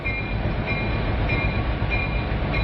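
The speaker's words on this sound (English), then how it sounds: "oil tanker trains 118 cars long" Long oil tanker train of 118 cars rolling past a shipping terminal in Trenton, North Dakota, a steady continuous rumble of wheels on rails with a faint high metallic whine, close and unbroken throughout.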